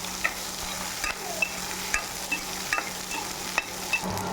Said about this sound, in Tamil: இப்போ பாருங்க கத்திரிக்காய் நல்லா வதங்கிடுச்சு.